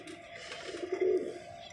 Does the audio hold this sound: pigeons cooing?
yes